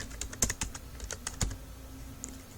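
Rapid, light keystrokes tap on a computer keyboard while filling in a Google Forms field, a close, fairly quiet burst of clicks that thins out toward the end with no talking.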